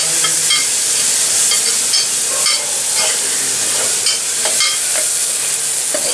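Chopped onion with fenugreek sizzles steadily in hot tempering oil, a loud continuous frying hiss broken by the clicks and scrapes of stirring.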